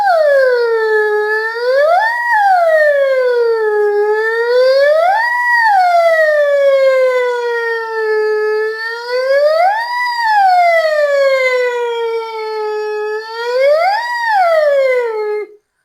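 Human voice imitating an ambulance siren, loud and close, sweeping up and down in slow repeated wails for about fifteen seconds, with no other sounds.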